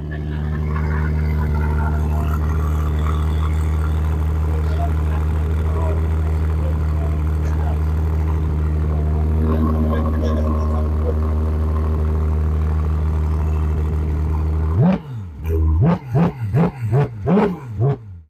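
A Daihatsu car with aftermarket exhaust pipes idles in a steady, deep, close drone, then gives several sharp revs in quick succession near the end, with a voice talking faintly underneath.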